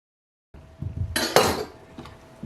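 A knife rocks up and down through a butternut squash on a board, a few close clunks and scraping cuts after silence, with a brief louder crunch in the middle.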